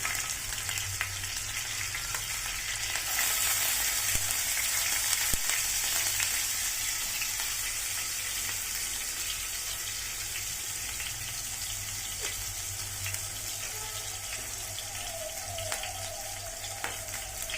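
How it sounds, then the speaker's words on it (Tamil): Chopped ginger and garlic sizzle steadily in hot oil in a pan while cooking veg noodles, a close, continuous crackling fry with no talking. "அதில் சின்ன சின்னதாக சாப் பண்ணி வச்சுக்கிற இஞ்சி பூண்டை நல்லா இதில் சேர்த்துக்கலாம்"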